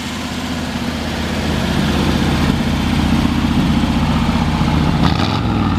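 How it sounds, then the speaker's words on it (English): A 1951 Ford Victoria custom idles steadily through dual exhaust, a loud, continuous low rumble running unbroken from start to finish with no talk over it. "We'll go ahead and fire this one up for you."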